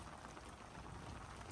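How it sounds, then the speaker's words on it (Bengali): Rain falls during a stormy monsoon spell, a faint, even wash of drops heard briefly and alone. "অতিরিক্ত ঝড় বর্ষায় এখনো বৃষ্টি হচ্ছে।"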